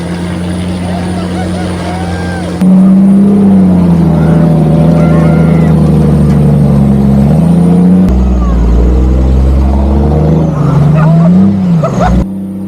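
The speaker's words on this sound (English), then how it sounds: "So I guess we're just gonna go mess around in the army truck for now." An army truck is driven offroad, its loud engine droning close by with shifting pitch as it revs and labors over rough ground, steady throughout with brief changes in load.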